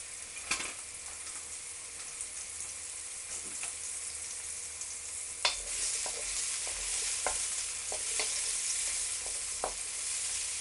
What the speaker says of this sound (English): I'm going to quickly saute the mushrooms, because I want them to be brown